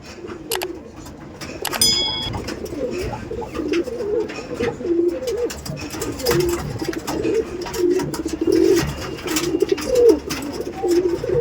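Tournament pigeons coo in repeated soft throaty calls close by, with wing flutters and occasional clinks among them.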